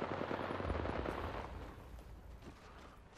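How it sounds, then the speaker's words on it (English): Continuous automatic gunfire in an Apex Legends arena match, a dense, steady rattle of shots heard at moderate volume without pauses, with no voices. "I'm shooting this man directly."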